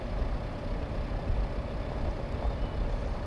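Steady low engine drone of a tractor driving forward in Farming Simulator 15, a continuous rumble with no talk over it.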